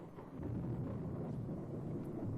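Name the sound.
thunder and rain in video game Corpse Party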